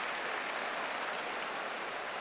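Steady applause from a football crowd at Stoke City against Arsenal, a dense uninterrupted roar of clapping filling the stadium throughout.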